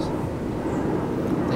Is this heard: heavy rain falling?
no